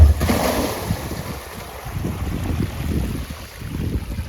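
Water is dumped out of a tank to make a cattle wallow in a pasture. It makes a steady outdoor rushing, gushing wash with wind buffeting the microphone, and there is no talk.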